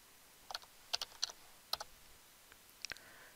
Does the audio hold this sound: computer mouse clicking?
yes